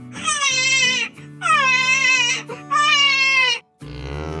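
A small child in an Indian village wails in three long, loud cries with short breaths between them, then starts a fourth.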